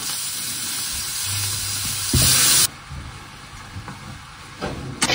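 Scrambled eggs with leftover lamb sizzle and crackle steadily in a frying pan, with a louder burst of frying partway through before settling back to a softer sizzle and a few utensil taps.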